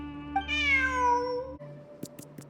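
A single long, drawn-out cat meow from a video game rises and falls, loud and close, followed by a few soft clicks.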